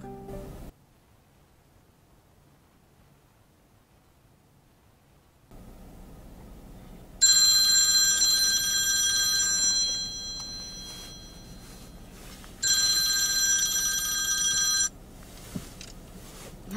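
A telephone rings indoors in two loud electronic ringing bursts separated by a pause, following a stretch of near silence and a low background hum.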